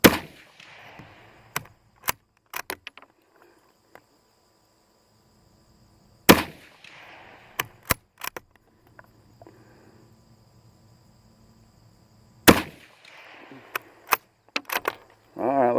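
Sharp, loud gunshots from a Savage 65M .22 magnum rifle fired at a 5-inch steel plate, single cracks spaced several seconds apart, each followed by faint ringing, with crickets chirping quietly in between.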